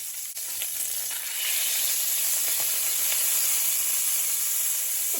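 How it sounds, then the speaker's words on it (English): Butter melting in a pot for garlic butter mushrooms, a continuous bright sizzle and hiss that swells after a second and holds steady nearby, with faint stirring ticks. "I'm adding my butter here to my pot."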